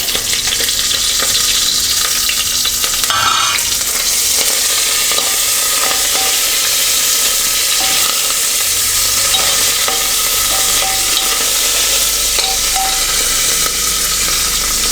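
Curry leaves and dried red chillies crackle loudly with garlic in hot oil for a mealmaker tomato curry, a dense continuous sizzle with a brief utensil clatter early on.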